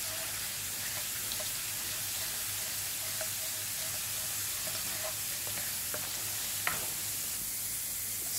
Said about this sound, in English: Now just stir it until golden